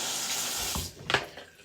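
Tap water runs steadily into a bathroom sink while a denture brush is rinsed under it, a continuous close splashing stream that briefly breaks and spatters as the brush moves through the flow.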